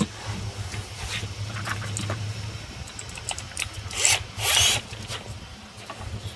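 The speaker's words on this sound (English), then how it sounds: "Put a 100mm timber screw in it." A 100mm timber screw is driven into wood for a tea-house deck railing, heard as a few short rasping bursts close by, the loudest two near the end against a low background hum.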